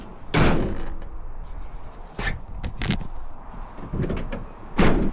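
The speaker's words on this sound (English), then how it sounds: "Shut the door." A door on a Jeep camper conversion is shut in a garage setting, several sharp knocks and thuds, one loud at the start and another near the end, with scraping bits between.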